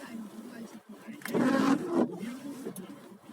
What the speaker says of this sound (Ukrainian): Ось під'їхав грузовичок. І зараз будуть грузити.